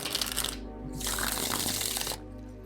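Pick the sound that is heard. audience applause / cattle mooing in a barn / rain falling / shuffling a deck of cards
shuffling a deck of cards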